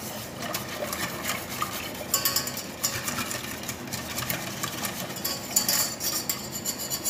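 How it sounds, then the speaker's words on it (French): Spoon scraping and stirring a béchamel roux in a pot, a steady soft rubbing with occasional clinks against the metal, continuous and close throughout. "Il faut toujours brasser, hein, parce que les roux, ça peut coller au fond"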